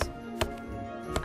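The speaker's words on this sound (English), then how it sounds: "I feel bad chopping down all the trees." Tree chopping in the Kingdoms and Castles video game: two or three sharp, close wooden chops land at irregular intervals over a steady droning game background, with no talking.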